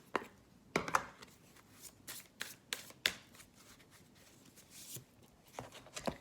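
Tarot cards are shuffled and drawn in a quiet room, with soft irregular riffles and crisp card slaps spaced unevenly, alone and close.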